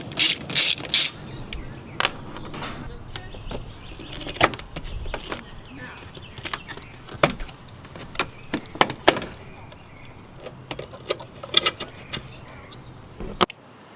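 A ratchet clicks in short bursts while backing out a T20 Torx screw from the third brake light of a 2014-18 Chevrolet Silverado or GMC Sierra, with sharp, close clicks scattered irregularly across the clip.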